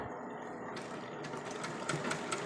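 A sewing machine stitches the chest pleats of a handmade dress, giving a steady mechanical whir with a faint rattle that holds through the whole stretch at close range and slightly louder near the end.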